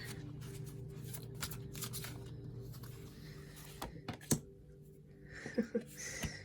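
Tarot cards are shuffled and drawn during a reading: a soft continuous riffle and slide of card stock, then sharper flicks and taps near the end as cards are pulled and laid down, close and quiet.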